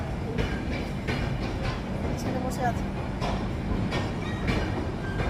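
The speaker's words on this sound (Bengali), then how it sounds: "আর ট্রেন ঢুকছে এই ট্রেনটা হাওড়া যাবে" A train bound for Howrah rumbles into a station along the rails with a steady rolling clatter, while people talk nearby over the noise.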